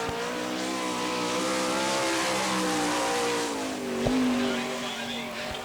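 A sprint car, the No. 9 on an asphalt oval at the All Star Circuit of Champions Winternationals in Gibsonton, Florida, screams at sustained high revs through a timed lap, with a steady, loud engine drone that dips briefly and rises again.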